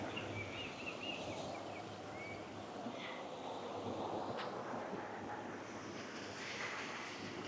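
A waterfall beside an outdoor walking path gives a steady, unbroken rush of falling water, a constant broadband wash at moderate distance with no pauses or voices.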